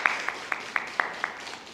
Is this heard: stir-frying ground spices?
no